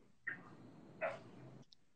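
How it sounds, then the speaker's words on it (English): Dogs bark outdoors, two sharp yaps a moment apart, followed by a brief higher yip, heard faintly and at a distance. "Sorry, there's dogs out here."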